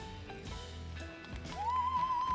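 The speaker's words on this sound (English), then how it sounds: "Conrad family, deep in heritage with our Percheron horses." Percheron horses at a draft horse show, heard as a clear whinny rising near the end over hoof clatter and arena noise, fairly loud and close.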